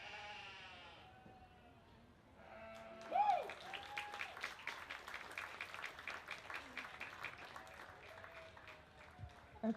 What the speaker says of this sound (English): Let's give all the kids another nice round of applause.